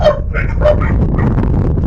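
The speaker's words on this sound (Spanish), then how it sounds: "Ya se quejaron los perros" Dogs barking and yipping at night in rural Jalisco, Mexico, several short excited barks close by with a whimpering edge, fairly loud throughout.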